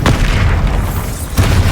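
Bombarda spell blasts in the video game Hogwarts Legacy: loud, close booming explosions, one at the start and another near the end, with a rumbling roar filling the space between them.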